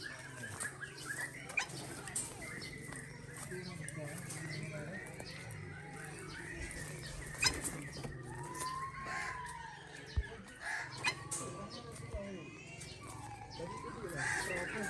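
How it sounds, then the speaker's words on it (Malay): Crows call repeatedly at a zoo in Aceh, Indonesia, with scattered caws and other bird sounds over a busy outdoor background, while people talk nearby throughout. "Lagi gagak."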